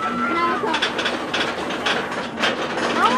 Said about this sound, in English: Are you stopping again, train?